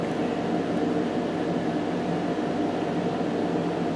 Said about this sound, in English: Sorry about the background noise, air conditioner's on.